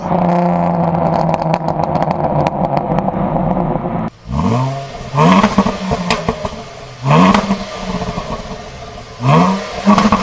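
A Jaguar XF V6 with a custom-built exhaust, idling roughly at first, then revved in three or four sharp bursts with a fluttery, brappy tone, each rising and falling back, loud and close.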